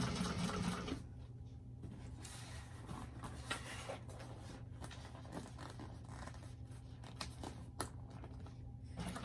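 A sewing machine stitching a single panel of a Trailblazer convertible backpack runs in a steady, quiet, continuous hum after a brief louder start.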